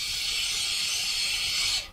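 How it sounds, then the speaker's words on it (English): A nonstick cooking spray can hisses steadily into a roasting pan, a loud continuous spray of about two seconds that stops abruptly at the end, with no talking. "Just spray it with some nonstick spray"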